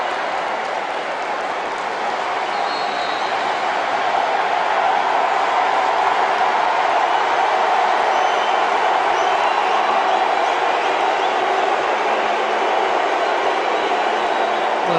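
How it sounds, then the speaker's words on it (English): Ghana and Nigeria supporters roar together in a football stadium, producing a dense, continuous wash of crowd noise that swells slightly and holds steady throughout, with no distinct voices standing out. "Well, listen to the crowd here."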